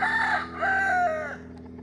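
A rooster crows once, loud and close, its call rising and then trailing off in a drawn-out final note.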